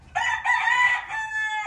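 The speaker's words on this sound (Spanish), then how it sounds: "Bonito gallo." A young rooster of about 13 months crows once on a family farm, a loud, close, bright cock-a-doodle-doo lasting under two seconds, alone with no talking.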